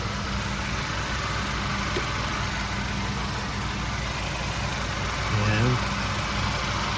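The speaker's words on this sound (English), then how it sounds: "Okay, the engine's running." A 2017 Honda CR-V LX engine idles after an oil change, giving a low, steady hum with a faint mechanical buzz. The sound stays even, with a brief low thump near the end.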